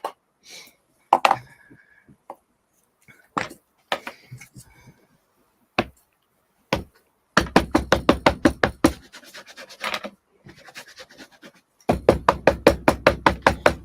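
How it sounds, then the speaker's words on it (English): Knocking on a door in sharp, separate raps at first, then two longer runs of quick, regular knocks, loud and close with quiet gaps between them; no talk. "Sounds like knock, knock, knock, knock, knock, knock,"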